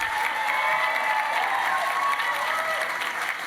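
A gala crowd at a literary awards event applauds and cheers for an honoree, a sustained even wash of clapping with faint whoops, steady and full for several seconds.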